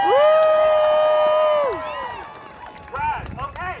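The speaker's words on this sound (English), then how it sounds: "I want everyone to give a big round of applause for Matt." A crowd at a rally for trans kids in St Paul, Minnesota, cheers loudly with long whoops and shouts. The noise fades after a couple of seconds, then scattered shouts rise again.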